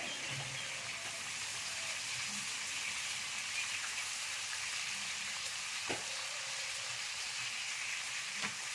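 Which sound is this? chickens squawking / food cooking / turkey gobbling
food cooking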